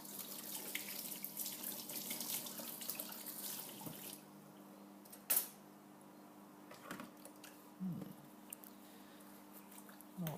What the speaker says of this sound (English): I'm just washing the spoon that I was using to